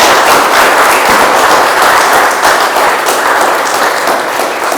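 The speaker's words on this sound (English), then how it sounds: "a very big round of applause for him." A crowd applauds loudly and steadily at a lecture, many hands clapping in a dense, continuous wash.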